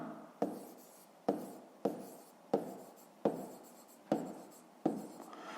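A pen writes on paper during a fifth-grade maths exercise, making about seven short, soft scratching strokes in an even rhythm, close and quiet, with no talk over them.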